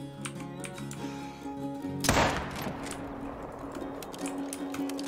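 A single hunting rifle shot fires in theHunter: Call of the Wild, one sharp loud crack with a rolling outdoor echo, heard midway through over a steady ambient background.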